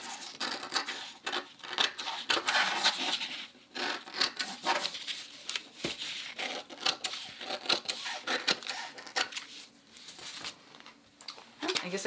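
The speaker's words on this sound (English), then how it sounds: "go ahead and finish trimming this pattern piece that I just created" Scissors trim a freshly drafted paper sewing pattern piece for a raglan top, a steady run of crisp paper rustles and snips, close and fairly loud, with no one talking.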